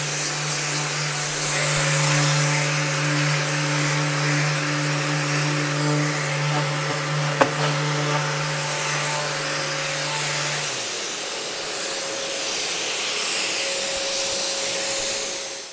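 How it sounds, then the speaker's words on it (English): Power sander running steadily on a painted cabinet vanity for a final sanding pass, a constant droning whine that cuts out partway through, leaving quieter room noise. "now I'm gonna do a final sand on my vanity"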